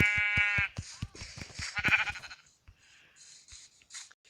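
Sheep bleat repeatedly at close range, a loud wavering cry followed by shorter calls, with rustling and faint farm noise between them.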